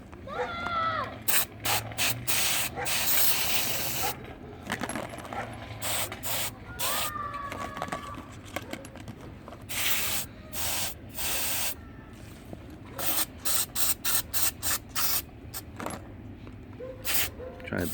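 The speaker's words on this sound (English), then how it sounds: "So we'll just spray some brake cleaner in here." Brake cleaner sprayed from an aerosol can into a GY6 scooter carburettor part, heard as repeated short hissing bursts with clicks and clatter between them, close by and moderately loud, with a voice briefly in the background.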